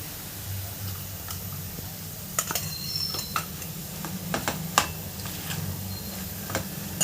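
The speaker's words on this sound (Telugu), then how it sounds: "బాగా ఫ్రై అయినాక ఫ్రెండ్స్ గరం మసాలా వేసుకోవాలి" Chicken frying in a pan after garam masala is added, a soft continuous sizzle with scattered light ticks and clinks from stirring.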